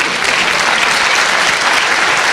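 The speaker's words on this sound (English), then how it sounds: "Let's keep clapping until he gets to his seat." Loud, close applause from a business forum audience, dense and sustained clapping without pause from start to finish.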